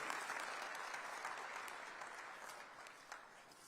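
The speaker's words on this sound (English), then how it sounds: "a big round of applause." An audience at an industrialisation investment conference applauds. The clapping is steady and even and sounds distant and faint, easing slightly as it goes on.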